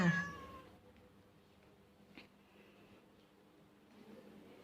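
A cat lets out one loud, close meow inside an indoor cat room, followed by quiet stillness with only faint rustling and soft movement.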